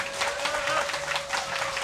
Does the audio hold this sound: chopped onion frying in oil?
no